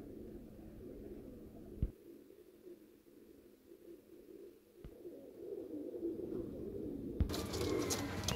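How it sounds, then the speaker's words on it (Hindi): Madrasi pigeons coo softly and continuously, a low burbling murmur with a few faint knocks and a burst of rustling near the end. "तो जैसे कि आप लोगों ने कबूतर देखे तो आपको कबूतर दिखाए हैं"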